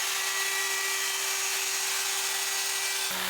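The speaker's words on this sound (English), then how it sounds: "I used a roundover bit with the router" A wood router fitted with a roundover bit shapes the edge of a wooden charcuterie board, a steady, loud high-pitched whine holding one constant tone throughout before a brief shift at the end.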